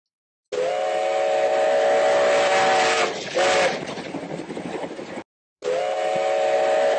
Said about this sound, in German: jetzt hören wir mal rein in diese Aufnahme aus dem Jahr 2010 von dieser Fünftonpfeife